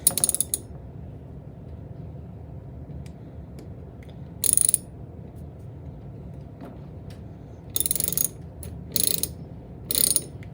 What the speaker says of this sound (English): Alright, now we're tightening the clamp down.